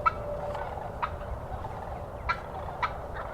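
A wild turkey gobbles during a Wisconsin spring hunt, several short rattling gobbles at a distance over a steady outdoor hiss.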